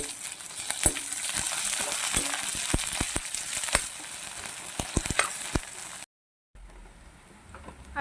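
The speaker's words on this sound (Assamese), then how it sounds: "আৰু এইখিনি ভালদৰে কেঁচা গোন্ধটো যোৱালৈকে অকণমান টাইম ভাজি ল'ম।" Onion with ginger-garlic paste frying in a pan, a loud, close, steady sizzle broken by repeated sharp scrapes and clinks of a spoon stirring, then a brief cut to quieter sizzling.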